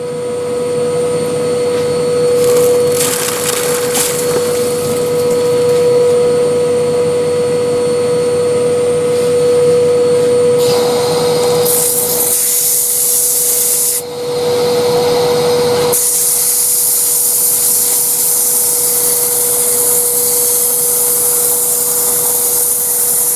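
Power sander working wood down to 600 grit, a steady loud whine running throughout with a sharper, brighter hiss bursting in partway through as pressure changes.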